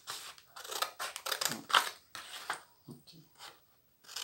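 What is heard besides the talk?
scissors cutting a paper panty pattern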